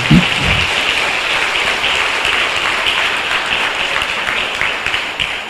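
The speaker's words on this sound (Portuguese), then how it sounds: "Aplauda essa palavra poderosa." A church congregation at a prayer group meeting claps steadily and loudly in a dense, continuous round of applause that lasts throughout.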